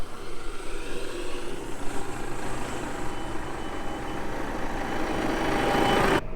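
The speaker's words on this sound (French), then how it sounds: "la turbine, elle est entraînée par la prise de force du tracteur. Donc la prise de force est en route" Tractor engine running with its PTO driving a seed drill's turbine while sowing parsley, a steady loud mechanical drone with a whine that builds toward the end.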